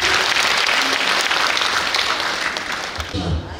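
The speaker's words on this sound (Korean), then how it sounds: "박수 한번 주십시오." Loud, dense audience applause fills a hall at a Korean song festival stage show, holding strong before tapering off as a voice comes in near the end.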